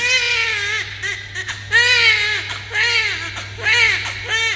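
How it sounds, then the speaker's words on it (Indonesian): A newborn baby cries loudly and close in a series of wailing bursts with short gasping pauses, over a low steady hum. "akhirnya terdengar suara tangisan bayi"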